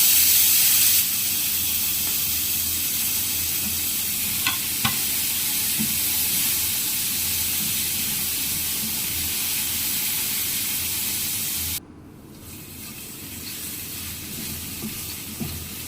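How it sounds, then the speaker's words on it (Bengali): Potatoes with chili powder cooking in a pan, with a steady, loud hissing sizzle and occasional stirring clicks, dropping to a quieter simmer near the end. "তারপর নাড়াচাড়া করে আলুটা সিদ্ধ হওয়ার জন্য দিয়ে দেব"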